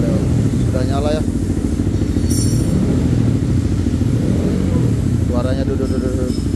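Honda CBR250R 250cc single-cylinder motorcycle fitted with a custom muffler, idling close by with a steady, slightly rough low throb that runs the whole time, with a brief rev blip and someone talking over it.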